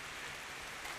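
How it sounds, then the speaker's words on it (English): Rain falls steadily on the forest canopy along the Vermont Long Trail during an uphill hike, a faint, even hiss of drops that holds without a break for the whole second, with no talking. "it's raining, as it has been on and off, but now it's actually like raining"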